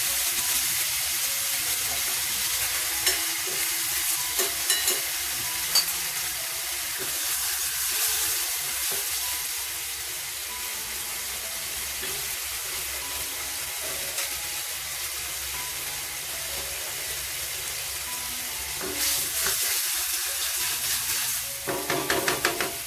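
Tamarind water poured into a Tora fish curry sets off a long, steady sizzle and hissing steam in the pan, continuous and close, with occasional faint stirring clicks and no voices.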